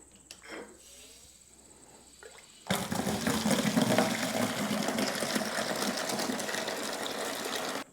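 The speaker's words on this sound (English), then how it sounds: "We're gonna throw some water on one of these cherry boards." After a quiet stretch with a few faint knocks, water suddenly splashes and pours onto cherry wood boards at a sawmill, a loud continuous rushing wash that keeps going to the end.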